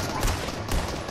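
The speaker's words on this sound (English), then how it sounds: "Oh, I'm getting shot at." Rapid gunfire in a Fortnite match, two bursts of shots a fraction of a second apart, fairly loud and dense, with no talk over it.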